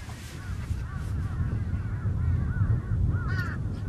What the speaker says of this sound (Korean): 지금 까마귀 소리 많이 들리잖아요.